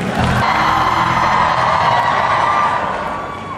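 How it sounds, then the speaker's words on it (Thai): A Thai concert crowd cheers and applauds loudly and continuously, a dense wash of claps and shouts filling the space before slowly fading near the end. "ขอเสียงปรบมือกับบิ๊กพี่บีด้วยครับ"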